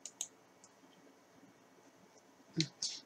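A few quiet, sharp mouse clicks in photo editing software as paste is selected: two near the start and a close pair near the end, over faint room hiss.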